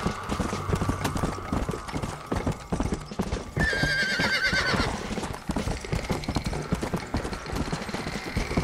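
Horse hooves clip-clop steadily in Red Dead Redemption: Undead Nightmare, with a neighing whinny rising partway through, all close and fairly loud over game background sound.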